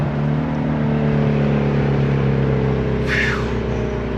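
Shelby GT350 engine with its exhaust set loud, a steady low rumble held under the whole stretch with a brief rising whoosh near the end, close by and constant in level.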